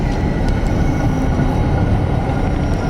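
A coal ash conveyor belt at a coal-fired power plant gives off a loud, continuous mechanical rumble and roar with a faint high hum, steady throughout and heard close, with no talking.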